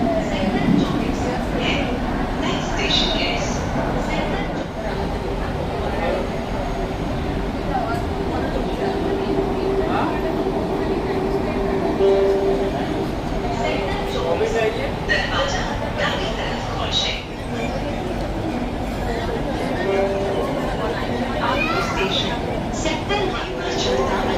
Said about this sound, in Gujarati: મેટ્રોમાં તો રેલવે કરતી વધારે મજા આવે મેટ્રોમાં.